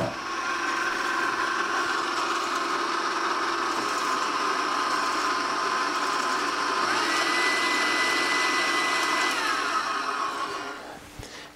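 An electric mixer with a whisk attachment beats eggs in a bowl, giving a steady, loud mechanical whir that runs unchanged for about eleven seconds before it cuts off.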